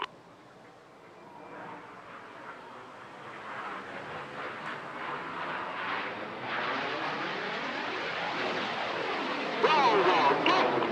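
Display jets at an air festival roaring past while performing opposition barrel rolls and inverted flight, engine noise swelling from faint to loud and sustained over several seconds as the aircraft approach.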